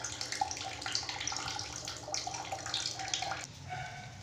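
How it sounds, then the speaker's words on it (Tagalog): A weak trickle of water runs from a tap into a bucket, a steady thin splashing with faint dripping. Quiet background noise sits underneath, and the flow thins slightly near the end. "Sobra ang hina ng tubig"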